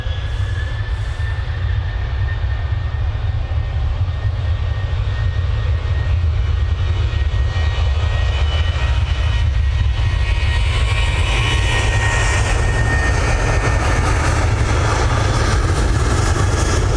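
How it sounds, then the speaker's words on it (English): Jet2 Boeing 737 jet arriving at Manchester Airport from Belfast on a windless day, a steady loud rumbling roar with a thin whine that holds throughout and brightens with rising hiss toward the end. "Jet 2 737 coming in from Belfast."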